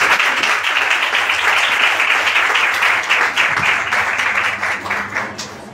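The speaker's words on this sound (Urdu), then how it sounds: "زوردار تالیوں سے ویلکم کرتے ہیں" A church congregation breaks into loud, sustained applause to welcome a pastor. Dense clapping fills the whole clip steadily and close by, with no speech over it.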